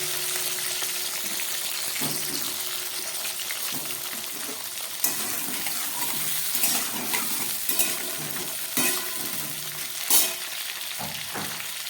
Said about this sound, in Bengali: আলু দেবার পরও আবার খানিকক্ষণ এটাকে ভেজে নিতে হবে